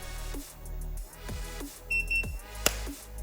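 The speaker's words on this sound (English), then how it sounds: "you'll hear a beep to indicate cruise mode kicking in" A short electronic beep from an M365 electric scooter signaling cruise mode sounds twice in quick succession, fairly clear over a low mechanical hum, followed by a sharp click.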